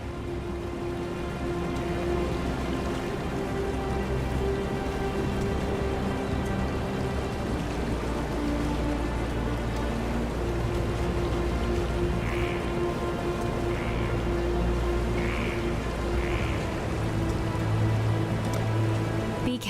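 Steady rain pours throughout a dark fantasy game world in Path of Exile, a continuous broadband hiss lasting the whole stretch, with faint game tones and distant effects beneath and no voices.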